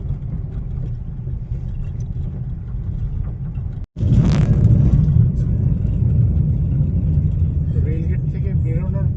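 A car creeps along a rough, dusty road near a rail gate at under 20, its engine giving a low, steady rumble with a brief dropout, and a voice talks over it.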